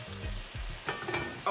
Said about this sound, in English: Everything's boiling.